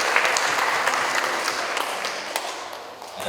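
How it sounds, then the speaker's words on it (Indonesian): An audience at a seminar talk applauds a speaker, a full, steady round of clapping with a few sharper individual claps standing out, dimming slightly near the end. "Tepuk tangan untuk Om Solo."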